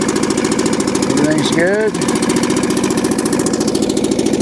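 A Mercury Mark 10 outboard motor idles steadily with an even mechanical thrum throughout, while someone speaks briefly over it partway through.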